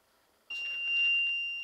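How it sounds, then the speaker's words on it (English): A loud electronic alarm starts abruptly and beeps steadily with a high piercing tone, going off alone in a quiet building during a paranormal investigation. "Well, it shouldn't have set that alarm off."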